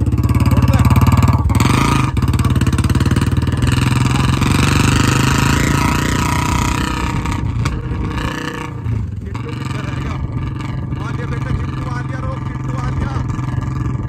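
A motorcycle engine runs loudly and continuously close by, with a heavy rumbling drone that eases slightly partway through, while someone talks over it.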